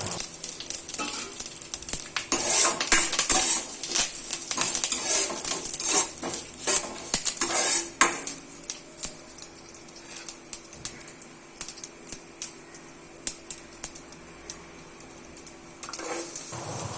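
Mustard seeds, urad dal, rice, red chilli and curry leaves hit hot oil for a cabbage poriyal tempering: rapid, dense crackling pops, close and busy at first, then thinning to scattered sharp spits.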